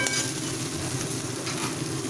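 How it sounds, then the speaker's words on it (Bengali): Spice masala paste frying in oil on the stove, a steady moderate sizzle with soft crackling throughout. "এবারে গ্যাসটাকে স্টিম করে ততক্ষণ ফ্রাই করব যতক্ষণ না তেলটা ছাড়ছে"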